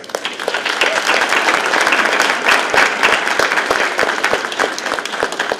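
Audience applauding at an African American veteran appreciation brunch, sustained dense clapping from a room full of people, loud and continuous.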